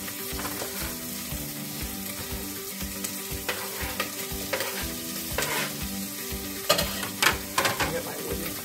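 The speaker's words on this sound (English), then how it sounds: "I'm going to throw that in with my bacon and my onions" Chopped leeks sizzle in a pot with bacon and onions, a steady frying hiss under repeated scraping stirs and clinks, with a few louder knocks near the end.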